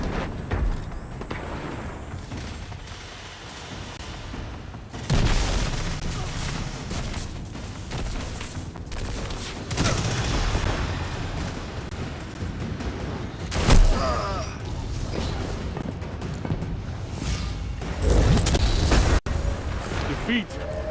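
Rapid SMG-style gunfire and booming blasts in Destiny 2, loud volleys recurring across the stretch amid explosive impacts, with voices talking over much of the action.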